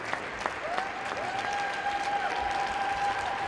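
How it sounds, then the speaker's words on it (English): A crowd applauds gymnast Vahag Davtyan after his landing at the 2025 Cairo World Cup, with steady, dense clapping from a large arena audience running through the whole moment and some faint tonal arena sounds underneath. "you can hear that in the reaction from the crowd and his fellow gymnasts"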